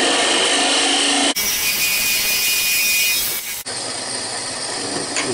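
Wood lathe spinning a wood blank while a tool cuts a short tenon, a steady close scraping hiss with a louder cutting stretch in the middle.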